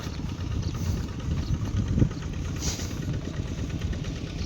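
Tractor engine running steadily in a flooded rice paddy, a continuous low rumbling drone with a brief louder thump midway, no voices.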